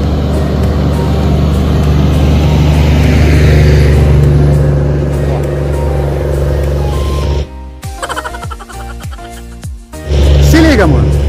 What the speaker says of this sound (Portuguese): Até vou parar de falar aqui e esperar o caminhão passar.